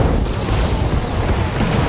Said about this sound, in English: He's shot in the back from the AC-20.